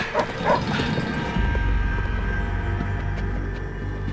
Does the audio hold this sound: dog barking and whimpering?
yes